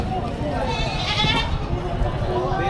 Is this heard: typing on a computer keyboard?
no